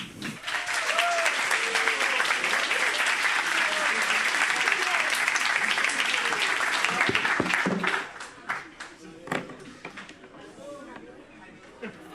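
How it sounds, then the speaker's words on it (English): A large crowd at a JavaScript conference applauds loudly for about eight seconds to welcome a speaker, then the clapping thins into scattered claps and a few voices. "a round of applause for Miguel, please."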